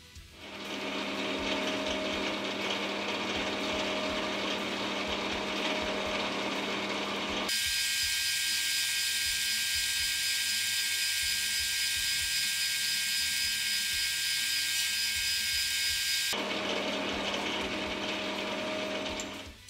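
Metal lathe parting off a bar, a steady mechanical whirring with a harsh, high-pitched cutting whine that starts abruptly partway through, holds for several seconds, then cuts back to the quieter machine hum.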